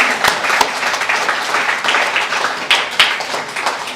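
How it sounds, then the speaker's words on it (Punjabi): An audience at an art camp and exhibition in Fresno applauds the parents, giving a steady burst of clapping with a few sharper individual claps standing out over several seconds. "ਜ਼ੋਰਦਾਰ ਤਾੜੀਆਂ ਸਭ ਤੋਂ ਪਹਿਲਾਂ ਇਹਨਾਂ ਸਾਰੇ ਮਾਪਿਆਂ ਦੇ ਲਈ"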